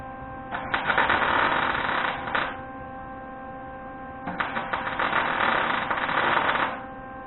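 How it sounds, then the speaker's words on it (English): Two bursts of crackling buzz come from a steel smiley bumper on a 1973 Toyota Celica being welded against a clamped copper backing piece. Each burst lasts one to two seconds over a constant electrical hum. "I got her all welded up there."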